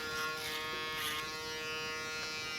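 Andis electric hair clippers run in a barbershop, giving a steady close-up mechanical buzz with a constant hum and no breaks.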